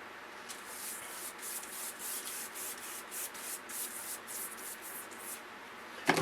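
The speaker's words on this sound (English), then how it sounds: "I think it's better just to go ahead and use a soft bristle brush like I'm doing." Soft bristle brush scrubbing to clean a Tomb of Dracula issue 10 comic book, with a rhythmic brushing swish of repeated close strokes that keeps an even pace and plays alone with no speech.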